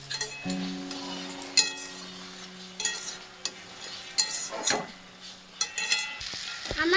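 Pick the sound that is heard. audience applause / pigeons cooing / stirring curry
stirring curry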